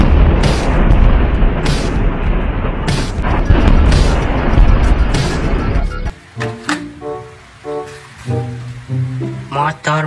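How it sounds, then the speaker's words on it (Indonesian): A toy battle tank produces about six seconds of loud rumbling with repeated booming blasts; a voice then talks over quieter electronic tones. "Tank tempur."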